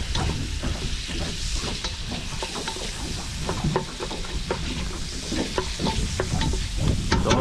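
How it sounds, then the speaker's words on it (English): Onions sauté in a hot pan with a dense, steady sizzle and hiss. Frequent scrapes and clatters of stirring are heard up close, with no talking. "Okay, gonna throw the onions in there. Let it saute for a little bit."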